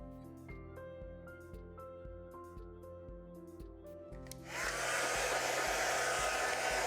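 A heat embossing tool switches on partway through and blows a loud, steady whooshing hiss over scrapbook embossing. Soft music plays before it starts and continues under it.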